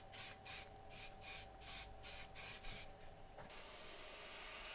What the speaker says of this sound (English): painting with the airbrush on acrylics